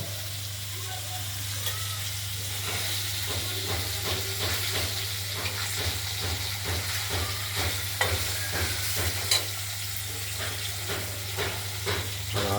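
Pieces of katla fish sizzle steadily in a hot pan, a constant frying hiss with scattered crackles and pops, close and fairly quiet with no talking.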